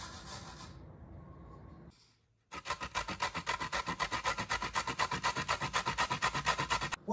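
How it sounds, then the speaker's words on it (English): Carrots are shredded against a grater in quick, rhythmic rasping strokes, loud and close, that begin after a short quieter stretch of rubbing and a brief pause, with no talking. "put it against your grater, and start shredding it"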